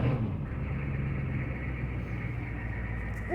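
A 1995 Chevy Silverado 2500 one-ton dump truck idles after a cold start, its engine a steady low rumble close by with no break.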